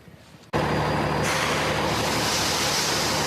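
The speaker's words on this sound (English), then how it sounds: "From salt trucks lining Leominster DPW" Salt trucks lined up at a Department of Public Works yard during winter storm preparations, a sudden loud hiss of air brakes bursting out and continuing as a steady rush over low idling engines.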